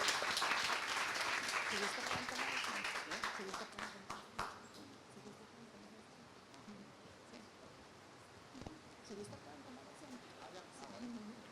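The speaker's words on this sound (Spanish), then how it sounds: "Les damos un fuerte aplauso." Audience applause at a university research week closing ceremony, loud clapping over the first four seconds that fades out, followed by quiet room noise and murmured talk.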